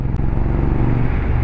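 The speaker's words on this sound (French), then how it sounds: "on va la mettre en 6, on va la faire brouter. Alors là je suis à 2000 tours en 6ème." A CFMOTO 450NK engine lugs at 2000 rpm in sixth gear, giving a loud, steady low thrumming chug over a brief clip.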